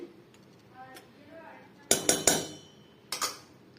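Pots and metal utensils clink in a home kitchen while homemade curd is set from boiled milk with sour curd as a starter. Quiet speech comes first, then a quick cluster of bright, close clinks and a shorter pair near the end.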